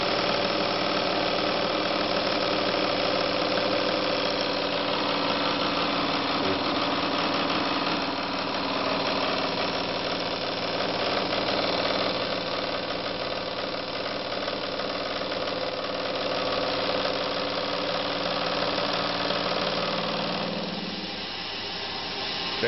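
Grizzly G3616 milling machine taking a cut of about fifty thousandths from metal, running as a steady, loud motor hum with a grinding cutting drone throughout, easing slightly near the end.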